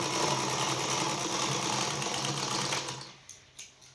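A jammed overlock sewing machine runs with a steady, dense mechanical whir for nearly three seconds, then slows and stops, leaving a few faint clicks and knocks from the mechanism.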